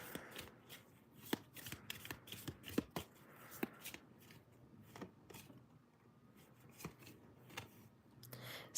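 Tarot cards shuffled by hand for a romance card reading, a steady run of riffling flicks and soft slaps lasting several seconds, close and fairly quiet, with no voice.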